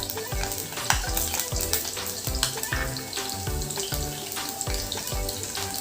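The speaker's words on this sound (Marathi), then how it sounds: "मग हे थोडंसं आपण परतून घेऊया" Chopped green chilli and onion sautéing in a pan for soup: continuous sizzle with frequent rhythmic stirring knocks and scrapes, close and fairly loud, no talk.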